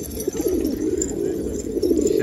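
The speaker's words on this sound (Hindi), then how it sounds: "कितना प्यारा कबूतर है ये" Pigeon cooing, a soft low continuous murmur from nearby birds, steady over a couple of seconds with no talking.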